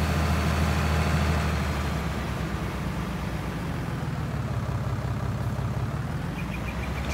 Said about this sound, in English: It's a funny sounding tractor.